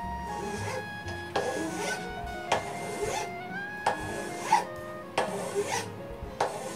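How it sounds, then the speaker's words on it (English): A standard metal file rasps along a split bamboo cane strip for a fly rod, smoothing down a bump in repeated strokes, each a scraping burst with short pauses between, close up and with no talk. "we will start to smooth this side of the strip by first filing away this bump with just a standard metal file"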